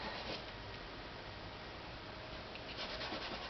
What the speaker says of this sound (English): Maybe rub it in just to take the value in a lighter direction.